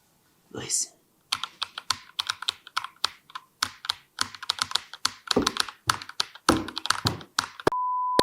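Logitech G Pro X TKL mechanical keyboard typed on close up, loud sharp clacky keystrokes in irregular bursts with brief pauses, ending in a steady beep.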